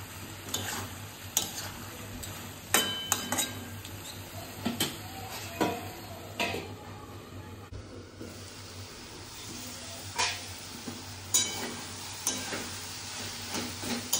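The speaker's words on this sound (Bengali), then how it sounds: "নেড়ে ছেড়ে একটু ঢাকা দিয়ে দেবো, যাতে আদার গন্ধটা চলে যায়।" Bottle gourd curry cooked with a fish head in very little oil is stirred in a pan, a spatula scraping and tapping in irregular strokes over a low steady sizzle, close and moderately quiet.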